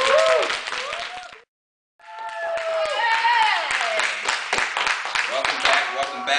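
An audience claps loudly with whoops and cheers, breaks off for a moment of silence, then the clapping and shouting return just as loudly.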